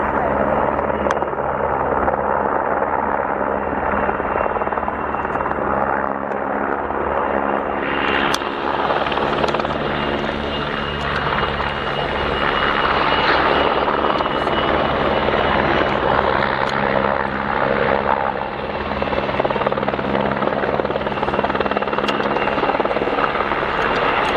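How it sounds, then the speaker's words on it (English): A Czech Air Force helicopter's rotor and engine drone loudly and steadily during a display flight at the Royal International Air Tattoo, a dense continuous roar that swells slightly as it passes. "Major Antonin Petru, also a seasoned helicopter exponent in the Czech Air Force"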